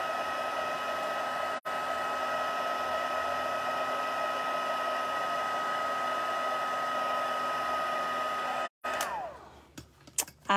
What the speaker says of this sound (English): Next, we are going to use the heat tool again and heat that up.